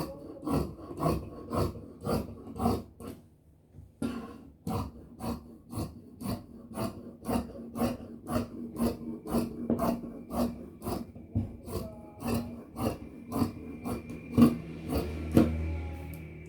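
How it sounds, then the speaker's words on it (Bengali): Scissors cutting through dress fabric, heard as a quick run of regular rasping snips close by with one short pause, and no talk. "আমি কেটে নিলাম।"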